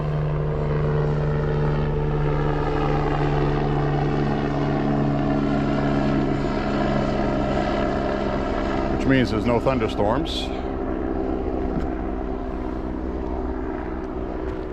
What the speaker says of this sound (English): And that is a life flight helicopter, medical.